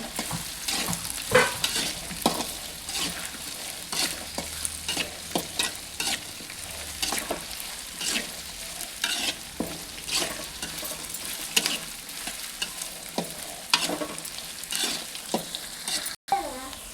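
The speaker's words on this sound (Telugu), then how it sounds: "అన్నం వేసి రైస్ కలిపేది." Rice gets stirred into vegetables with carrot frying in a pan, a steady sizzle under repeated scraping and stirring strokes that continue close and clear throughout, with no speech.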